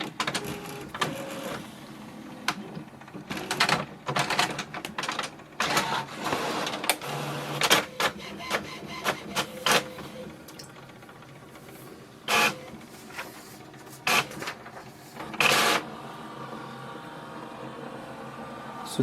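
An HP Envy Photo 7820 inkjet printer prints a page nearby, its mechanism giving irregular whirring feed runs, clicks and clunks with short pauses between bursts.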